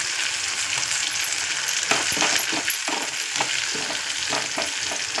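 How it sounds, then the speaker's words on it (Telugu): Masala spices with salt and turmeric frying in a pan for ridge gourd pulusu, giving a steady loud sizzle broken by scraping and clinking stirring strokes, with no talking. "మసాలా చూసారా బాగా వేగింది"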